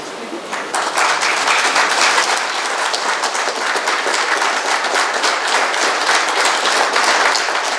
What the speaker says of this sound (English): I think calls for another round of applause